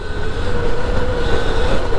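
A Surron Light Bee X electric dirt bike from 2023, fitted with a Torp TC500 controller, accelerating under throttle with a steady, loud whining drone and continuous rushing noise throughout.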